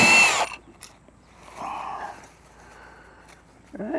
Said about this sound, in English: now I got my 9/16 on my impact,